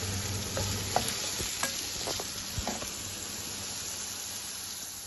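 Onions and potatoes fry in a pan with salt, turmeric and ginger-garlic, giving a steady close sizzle with occasional stirring scrapes and clinks.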